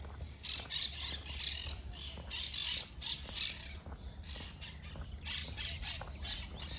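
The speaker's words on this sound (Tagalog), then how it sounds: "daming ibon sa farm" Many birds squawk and chirp in repeated bursts against a steady low hum, a busy outdoor flock calling without pause.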